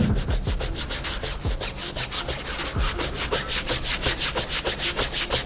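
Steady, rhythmic bristle scrubbing, fast back-and-forth strokes of a toothbrush against a shoe midsole, close and continuous with no talking.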